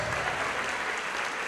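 A church congregation applauds steadily, a dense, even wash of many hands clapping at once, filling the room without a break and with no voices standing out.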